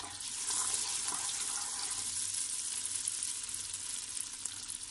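Butter and oil heating together in a pan for leftover rice, a soft even hiss of fat sizzling throughout, fairly faint with no voices.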